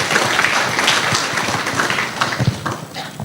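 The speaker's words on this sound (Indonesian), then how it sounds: "Beri tepuk tangan dulu ini." A crowd claps in a dense, steady patter that fades slightly toward the end.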